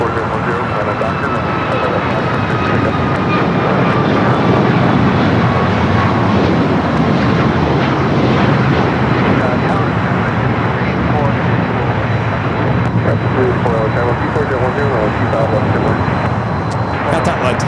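A KLM Boeing 787-10 Dreamliner at Los Angeles airport roars steadily and loudly as its jet engines rumble throughout, with a commentator's voice running over the noise.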